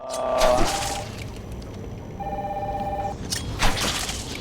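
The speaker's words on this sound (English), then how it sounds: "Following the trail, we find this phone and hear a call that's being made." A telephone rings in the video game Batman: Arkham Asylum, a couple of electronic bell bursts separated by a steady tone over a low ambient hum.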